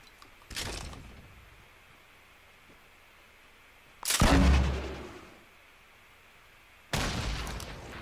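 Gold grenade launcher rounds in Fortnite season 7 go off as three separate explosions a few seconds apart, each a sharp boom with a decaying tail, the middle one loudest and heaviest, no talking.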